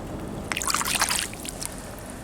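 Water splashes and trickles briefly as an object is swished and rinsed in the River Thames, a burst of close sloshing against a low, steady outdoor background.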